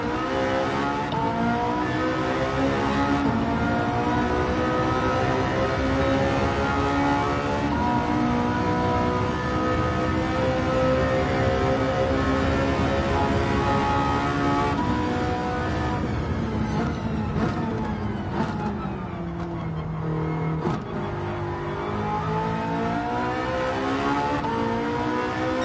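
A Porsche 918 in Gran Turismo 7 roars continuously up close, engine pitch rising and falling through shifts, with exhaust crackles and a brief dip around the twenty-second mark.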